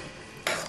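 A spoon stirs dried apricots into a pudding in a pot, a short scraping rub that rises suddenly near the end of a brief, quiet moment.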